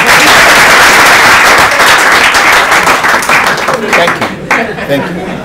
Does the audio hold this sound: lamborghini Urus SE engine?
no